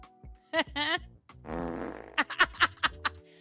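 A cartoonish fart sound effect set off by a chat command during a live knitting stream, a drawn-out buzzy blast followed by a rapid string of short sputtering pops, loud and close.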